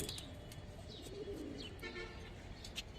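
Silver gribaz coloring pigeons and army pigeons coo softly at a pigeon seller's, low throaty murmurs under faint background noise and a few brief chirps.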